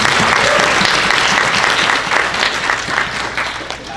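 Steady, loud applause from a conference audience at an expert panel, with dense clapping throughout that eases slightly toward the end.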